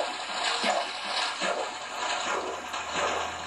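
Flowing water currents in Minecraft on Xbox 360 rush and gush steadily at a moderate level, without a break, and no one speaks.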